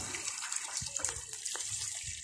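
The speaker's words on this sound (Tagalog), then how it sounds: "Ang lakas ng tubig." Water pours hard from a tap in a steady, hissing gush that runs the whole time. A few faint knocks and thuds come through underneath, and the flow is fairly quiet overall.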